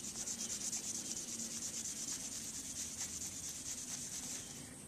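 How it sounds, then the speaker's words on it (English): A brass spring clip is rubbed with polishing compound, giving a steady, close scratchy hiss of rhythmic strokes that continues unbroken for several seconds. "I'm going to try hitting it with a little polishing compound."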